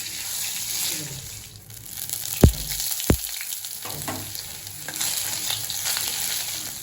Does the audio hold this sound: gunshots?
no